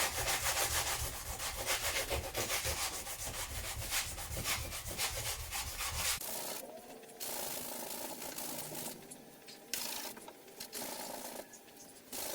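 Sandpaper scrubbing rusty bodywork on a Jaguar Mark 2, a loud, steady, coarse rubbing that runs without pause for about six seconds and then carries on as shorter, lighter strokes broken by brief gaps.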